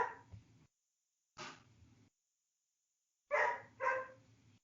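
A dog barks four times at fairly low volume: two single barks with pauses between them, then a quick pair of barks, with silence in the gaps.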